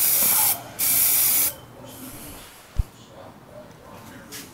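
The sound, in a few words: aerosol Plasti Dip spray on car wheels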